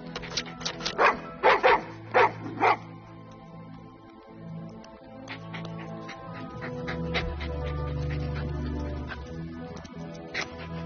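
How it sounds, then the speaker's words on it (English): A dog on a front lawn barks in a quick burst of loud, close yaps, then pants heavily and steadily, with scattered softer yips over an outdoor background. "we've got a dog that's going crazy on our, our front lawn"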